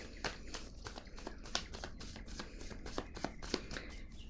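Tarot cards shuffled for a card reading, a steady run of crisp riffling flicks and soft slaps repeating close up and fairly quiet for several seconds, with no talking.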